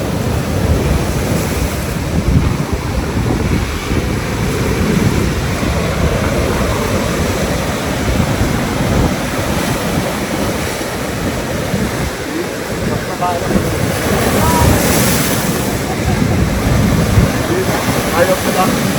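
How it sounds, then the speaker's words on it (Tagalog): Continuous roar of ocean waves breaking on a Greek shore, loud and close with heavy wind buffeting the microphone, a surge swelling near the end, and faint talk beneath. "Wow, look at the waves."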